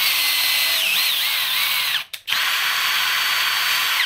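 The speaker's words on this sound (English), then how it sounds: "Right, now for tapping the holes." A power tool drives a tap into a drilled steel hole to thread it for an M6 bolt, a loud steady high whine that cuts out briefly midway before resuming, with no talk.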